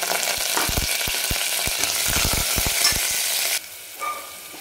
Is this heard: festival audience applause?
no